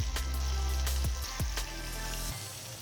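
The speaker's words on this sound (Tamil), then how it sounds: "இப்போ நம்ம வடையை ஃப்ரை பண்ணலாம்." Aval vadai, flattened rice fritters, frying in hot oil, giving a steady close sizzle with a few sharp pops as pieces drop in, the hiss easing a little toward the end.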